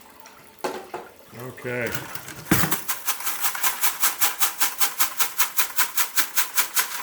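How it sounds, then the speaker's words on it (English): Pay dirt tipped into a classifier screen over a bucket gives a rushing, gritty pour, then a steady run of rhythmic shaking pulses as the material is sifted; a brief voice is heard before the shaking. "we're going to go ahead and dump this stuff into my classifying system here"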